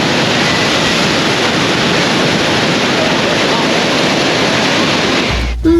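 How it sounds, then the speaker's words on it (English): Waves at Scarborough North Bay on the English coast, a loud, continuous wash of surf with rushing wind buffeting the microphone, cutting off abruptly at the end. "Now for some sea sounds"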